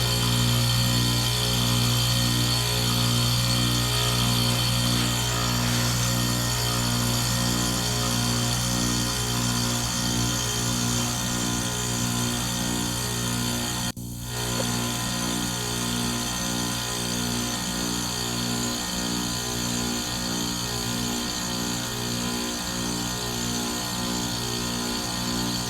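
A 2008 Rheem heat pump with an Emerson fan motor runs in heat mode outdoors on a snowy day, a loud, steady droning hum with layered tones that dips briefly midway, with no voices.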